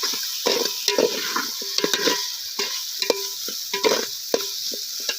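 Chicken pieces for a village-style country chicken biryani get stirred in a pot. Spoon strikes clink and knock against the metal over a steady frying hiss, close and distinct, with no talk.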